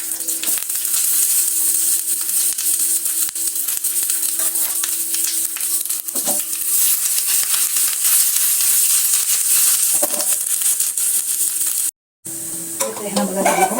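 Onions sizzling loudly in hot oil, a steady bright hiss with occasional stirring scrapes, broken by a brief gap before the frying resumes.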